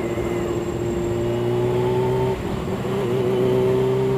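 A Kawasaki Ninja H2 motorcycle engine putters along in third gear at low throttle, a steady close droning hum with a brief dip in pitch midway before it settles again. No talking.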